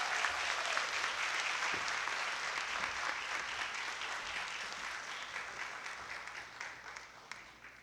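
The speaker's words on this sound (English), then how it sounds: "Let us welcome him with a warm round of applause." Sustained applause from an auditorium audience at a university lecture, a dense wash of many hands clapping that stays loud and steady before slowly tapering off.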